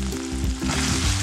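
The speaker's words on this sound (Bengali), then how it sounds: "দিয়ে মশলা কিন্তু ভালো করে কষে নিতে হবে।" Masala with Kashmiri chilli powder frying hard in a pan for a fish curry, a loud, dense, close sizzle that crackles throughout the short stretch with a stir partway through.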